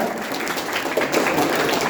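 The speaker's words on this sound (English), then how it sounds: "Let's have a big round of applause" An audience claps for a guest speaker at the end of a medical master class session, a steady wash of applause that is moderately loud and dense throughout.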